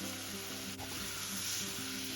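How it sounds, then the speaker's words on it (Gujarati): Aubergine curry sizzles steadily in a hot pan as it is stirred, a continuous close frying hiss with faint scraping under it. "ફરીથી આવી રીતે હલાવી લેવાનું, એટલે છે ને મસાલો સરસ એમાં ચડી જાય."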